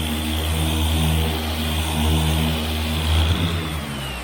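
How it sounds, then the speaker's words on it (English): An electric DA sander fitted with 80 grit paper works a rusty 1978 Nova car panel, a loud, continuous close-up whir and grind with a steady hum that holds throughout. "I've got some 80 grit DA paper, my electric DA sander"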